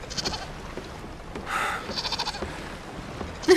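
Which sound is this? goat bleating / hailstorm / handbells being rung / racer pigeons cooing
goat bleating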